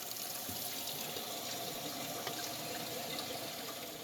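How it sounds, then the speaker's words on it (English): Toilet flushing with paper in it, a loud continuous rush of water running steadily throughout, heard alone. "We'll put a little more paper in there and flush it one more time"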